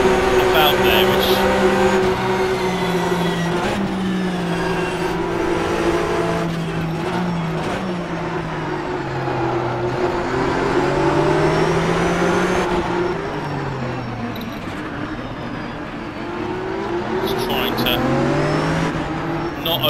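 A damaged Porsche race car in the rFactor 2 sim racing game, engine revving up and down through gear changes with rising and falling pitch, tire squeal in corners, while someone talks over it.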